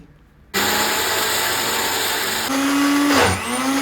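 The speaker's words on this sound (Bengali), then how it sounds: "এরপর সরিষাগুলো ব্লেন্ডার করে নিচ্ছি।" A kitchen blender grinding mustard seeds switches on abruptly after a quiet moment, then whirs loudly and steadily, its pitch shifting and straining briefly near the end as the load changes.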